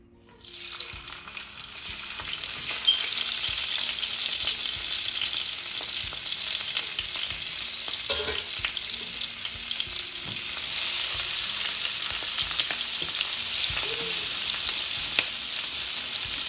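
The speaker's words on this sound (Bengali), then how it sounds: "এই তো লবণ হলুদ মাখায় চিংড়ি মাছগুলোকে আমি কিন্তু তেলে দিয়ে দিলাম এখন আমি এগুলোকে হালকা করে ভেজে নিচ্ছি" Prawns coated in salt and turmeric sizzle steadily in hot oil, a continuous close frying hiss with occasional small stirring clicks and no talking.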